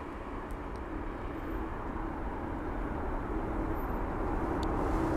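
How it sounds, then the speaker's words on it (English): Aer Lingus Airbus A320neo airliner at London Heathrow: a steady mid-distance jet engine rumble with a faint whine, building gently over the clip, heard alone without talk. "Here it is. Now the Aer Lingus A320 Neo is 2 years of age"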